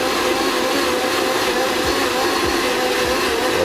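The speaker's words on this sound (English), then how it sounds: "obviously the blender is being powered" Countertop blender running steadily on a Bluetti AC200 lithium power station, drawing just under 1,000 watts; a loud, continuous motor whir with broadband roar and no speech.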